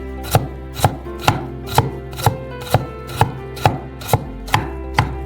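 A knife slices carrots thinly on a cutting board, giving about a dozen crisp, evenly spaced knocks at a steady rhythm, close and alone with no talk.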